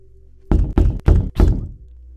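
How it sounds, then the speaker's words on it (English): A fist pounds hard on a wooden door in four heavy, closely spaced knocks, loud and close, with a short pause before the third. The thuds are deep and resonant and stand alone with no talk. "I walked across the hall to his door and knocked on it aggressively"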